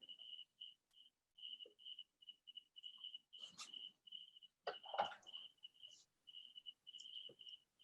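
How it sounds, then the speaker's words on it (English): Crickets chirping at night in Thailand, a steady train of faint, regular pulses that runs through the whole clip, broken by a few louder clattering knocks and rustles nearby. "If you can hear the crickets in the background,"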